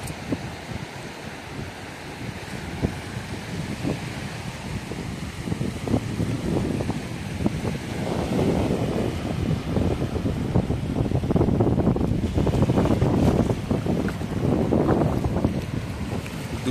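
Steady wind buffets the microphone at Kargil beach in Frazerganj, with the broad wash of waves rolling in beneath, a continuous loud roar that swells slightly toward the end, no voices.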